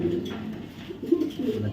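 A female racer pigeon gives soft, low cooing calls close by, short repeated notes over a quiet background.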